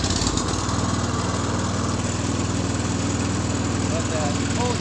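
A John Deere 110 garden tractor's small engine runs at a steady, loud idle-like drone for the whole stretch, close by and unbroken.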